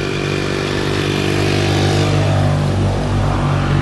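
A motorcycle rides past on a street, its engine a loud, continuous drone that swells slightly as it draws near, with no voices over it.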